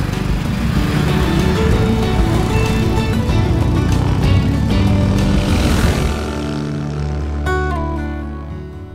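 Motorcycles riding along the road between Luserna San Giovanni and San Germano Chisone give a loud, dense, continuous engine drone that shifts in pitch and eases slightly toward the end.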